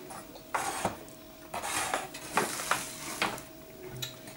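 A knife saws through a loaf of homemade express sandwich bread in a home kitchen, several short scraping strokes in an uneven rhythm, close and fairly quiet, with a faint steady hum behind them.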